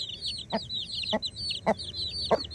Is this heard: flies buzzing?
no